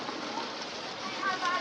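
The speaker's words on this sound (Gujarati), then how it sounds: "કાંઈ ઘટે નહીં એવો વરસાદ ચાલુ થઈ ગયો છે." Heavy rain falling steadily in an outdoor setting near Somnath, a dense even wash of hiss holding at the same level throughout, with a faint voice in the background.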